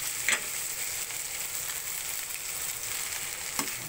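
Fried rice sizzles steadily as it is stirred in a pot, a loud continuous hiss of frying with a couple of brief scraping knocks from the stirring, no voices.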